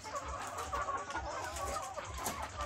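Chickens clucking on a hillside farm, a flock of hens giving repeated soft clucks and calls at close range, steady and overlapping with no talk.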